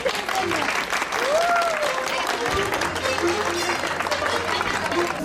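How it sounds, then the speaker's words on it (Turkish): A crowd applauds at a Turkish henna night, steady loud clapping running throughout with voices talking over it. "Alkışlayalım milletimizi."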